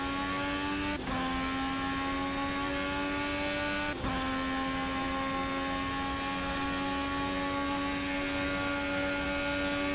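A racing car engine in a video game, on a full push lap at Bahrain: a loud, steady high-pitched whine that drops abruptly at each gear shift, with two shifts heard, and no talk.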